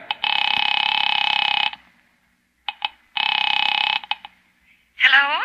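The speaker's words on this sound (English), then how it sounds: "Picking it up quietly, I dialed my daughter's number" Old telephone sound effect in a 1945 radio drama: two long buzzing ring-like tones with short clicks between them, loud and close, and a voice breaking in at the end.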